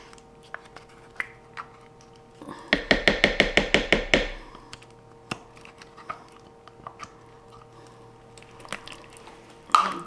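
A spoon stirs sour cream into Swedish meatballs in a crockpot, giving a quick burst of about eight rhythmic wet clacks against the pot, then scattered soft taps and clinks close by.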